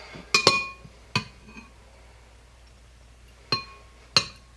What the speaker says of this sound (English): now we're going to fish the seeds out of here